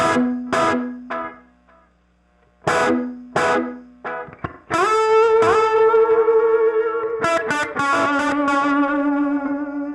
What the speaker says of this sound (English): The delays are kicking in from a longer ways away